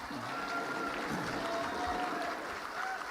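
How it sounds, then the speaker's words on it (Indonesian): An audience applauds the host at the final round of a Qur'an quiz competition in a hall, a steady, moderately faint patter of clapping with faint crowd murmur beneath. "Kita tepuk tangan kepada pembawa acara kita."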